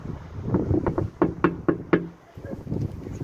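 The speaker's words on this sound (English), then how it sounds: "Okay, I'm knocking." Knuckles rap on a back door outdoors in a short series of sharp knocks, fairly close, with wind noise in the background.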